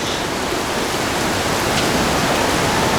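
Loud, steady rush of water flowing close beneath a bridge in the Partnach Gorge, a dense, continuous roar filling the whole moment with no pauses or voices.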